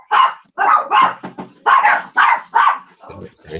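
A dog barks indoors in a series of about eight sharp, loud, close barks at an irregular rhythm, with a short whimpering tail at the end.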